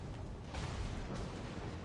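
Enemy ship gunfire in World of Warships Legends comes as a continuous, heavy rumbling barrage of booms and bursts. It sounds loud and dense, with no clear gaps between shots.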